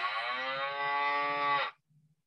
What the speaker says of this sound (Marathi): कसला आवाज आहे मुलांनो हा काऊ हा काऊ म्हणजे गाय